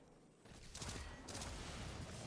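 Enemy void weapons firing in Destiny 2, a dense rapid fusillade of energy shots close by, continuous and loud after a brief quieter lead-in.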